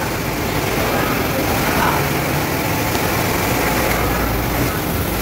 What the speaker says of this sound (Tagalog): Ito yung bagong machine namin ng nag-imprenta.